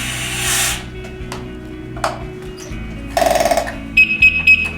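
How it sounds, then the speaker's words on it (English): A firefighter's air pack comes on with a hiss of air, then a rapid rattling burst and a series of shrill electronic beeps from the low air alarm and PASS device, loud and close. "So you hear that's called the low air alarm in the pass device."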